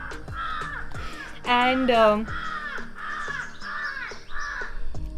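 Crows caw repeatedly nearby in the morning in Chikmagalur, India, harsh calls in an uneven series, mixed with a person speaking briefly over them.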